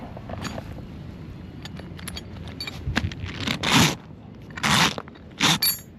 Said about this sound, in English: and you zip them together